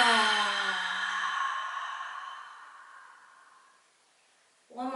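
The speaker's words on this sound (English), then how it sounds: "Let's take a deep inhale through the nose. And just let it out the mouth as loud as you feel like." A loud, voiced exhale pushed out through the mouth after a deep inhale, sighing and fading steadily over about four seconds, then a short fresh breath at the end.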